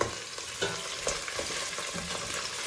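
Ingredients for chicken sambar sizzle steadily in a frying pan as they are mixed, with soft scraping stirs punctuating the close, constant hiss.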